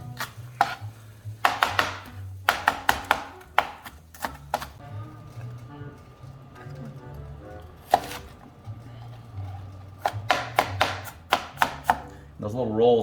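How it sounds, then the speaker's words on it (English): Onion chopped with a cleaver on a board, crisp rapid knocks in bursts with pauses between, close and fairly loud, a low hum running underneath. "with the cleaver or any kind of thing that's got a little bit of a bow to it, it's really easy next to just start rocking this"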